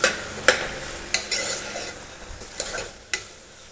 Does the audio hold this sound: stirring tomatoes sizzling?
yes